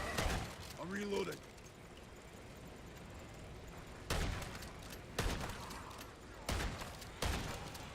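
Gunfire in Modern Warfare Zombies, several separate loud bursts spaced a second or so apart over a low background din, with a few game sound effects early on.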